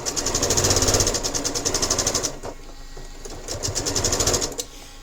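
A sewing machine stitching a quilt block, running in two rapid rhythmic bursts of needle clatter separated by a short pause, close and fairly quiet.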